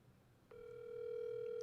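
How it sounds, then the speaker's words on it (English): A telephone dial tone cuts in after a quiet start and holds as a steady, clean, continuous hum to the end, with no voices. "Hold on, let me make a phone call."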